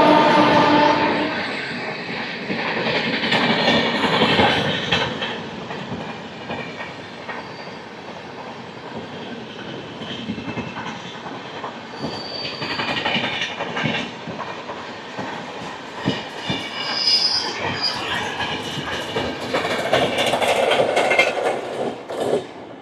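Circar Express passenger train on the Kakinada Port to Chengalpattu route running on rails in India: a steady rumble from inside the carriage with rhythmic clickety-clack over rail joints and occasional metallic squeals, swelling and easing in loudness, without speech.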